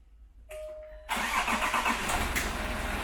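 A Range Rover engine cranks over and catches, settling into a steady, fairly loud idle that continues to the end, with a brief starter whir just before it fires.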